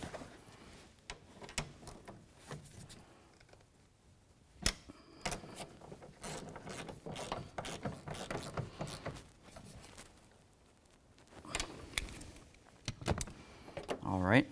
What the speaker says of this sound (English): I'm just going to grab a ratchet and make sure I tighten that up so it's nice and snug.